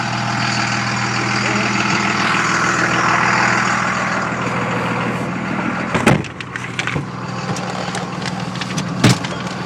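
A 1999 Dodge Cummins diesel pickup with 126,622 miles idles with a steady, heavy rumble, close and constant, with a few brief knocks or clunks near the end.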